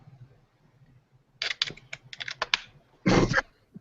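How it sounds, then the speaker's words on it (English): Typing on a computer keyboard: a quick run of clacking keystrokes in an irregular rhythm, then a short pause and a dense final burst of key presses, fairly close and alone with no talk. "Typing it now."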